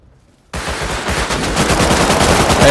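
AK rifle gunfire in a video game: after a brief quiet moment, a sustained loud burst of rapid automatic shots rings out close and continuous for over two seconds, with no talking.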